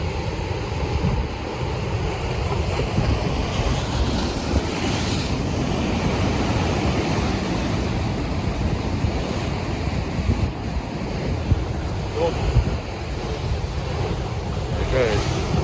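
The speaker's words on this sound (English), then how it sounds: "Look at that wave coming over through the middle there." Ocean waves surging through coastal rocks, a continuous heavy roar of churning surf with wind buffeting the microphone, and a few faint voices underneath.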